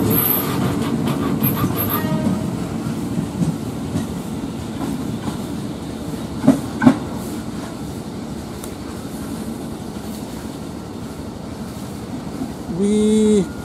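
A rare Jakarta KRL commuter train on the Depok line rumbles past near Manggarai with rhythmic clattering, a couple of sharp metallic clanks midway, and a brief squealing tone near the end.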